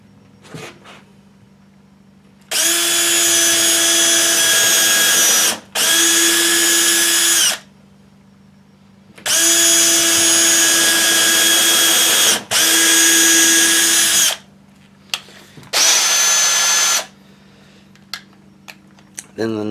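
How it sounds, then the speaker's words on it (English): A power drill pre-drills holes in 1x3 wood boards for DIY shelving, whirring in five loud bursts of a few seconds each, separated by brief pauses and small clicks, against a quiet background hum. "So the reason why that we pre-drill the holes is so that the wood doesn't split."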